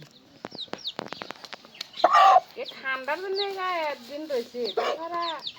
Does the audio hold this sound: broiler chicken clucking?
yes